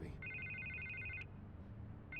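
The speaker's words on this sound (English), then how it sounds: "I can't get the phone to stop ringing." A phone rings in Batman: The Telltale Series game scene, an electronic warbling ring lasting about a second, then a pause before the next ring begins, heard close over a low background hum without speech.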